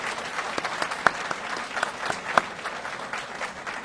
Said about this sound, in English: please join me in a round of applause for the Navy Supply Corps School staff